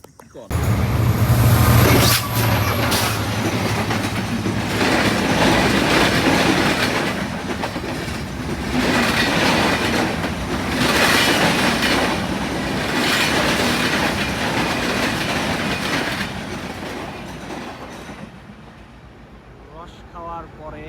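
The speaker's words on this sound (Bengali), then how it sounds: "একটা জিনিস ট্রেনটা চলে গেল" Train rolling past at close range, a loud continuous rumble with rhythmic clickety-clack of wheels on rail joints that holds for most of the stretch before fading away near the end.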